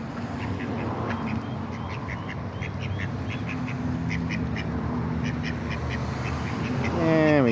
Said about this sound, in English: Found some ducks hiding, but I tricked them into coming closer.